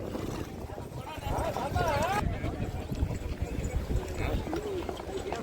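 A horse running in a rewal chal race in Dhanavada, Abdasa, Kutch, its hoofbeats a loose rhythmic clatter under loud, excited commentary and crowd noise, with a whinny-like tonal sweep partway through.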